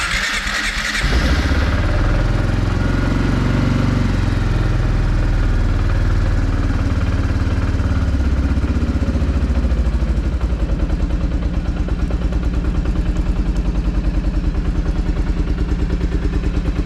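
A Kawasaki Prairie 360 ATV engine, choked after wiring repair and an oil change, cranks and catches within a second, then idles loudly and steadily up close with a rough, pulsing clatter that shifts slightly near the end.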